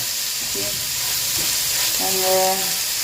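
Onion, tomato, green chilli and ginger sauté in a pan under a steady broadband sizzle, with a few faint scrapes and a brief tonal whine near the end.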